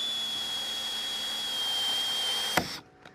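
A power driver whines steadily up close as it sinks a special screw all the way into wood, ending in a sharp clack as the driver stops, followed by a brief quieter knock.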